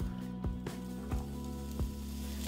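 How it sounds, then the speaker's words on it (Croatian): Diced bacon with the rind removed sizzles in olive oil in a pan, a constant close hiss broken by a few soft knocks as the pieces are stirred. "te je pažljivo prepeći dok ne postane fina i hruskava"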